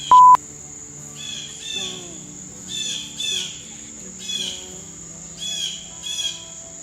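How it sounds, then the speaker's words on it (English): Birds chirp and trill outdoors in repeated short bursts over a steady high insect-like buzz, fairly close, with no talking. "Damn birds."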